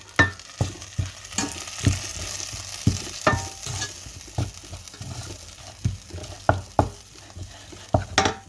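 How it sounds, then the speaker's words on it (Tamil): Curry powder and spices are sautéed in a pan for a boiled-egg curry. Loud, close sizzling runs throughout, broken by regular sharp scraping strokes of a spoon or spatula about every half second. "கறி பவுடர் போடுறேன் இந்த அளவு எல்லாத்தையும் போட்டுட்டு ஒரு கா வதக்கோணும்"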